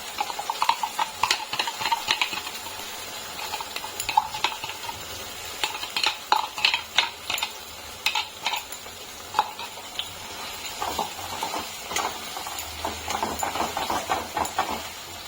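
Spices being stir-fried (kosha) in a pan for white paneer with curry leaves, with repeated scraping spatula strokes and light sizzling in irregular bursts, close and moderately quiet.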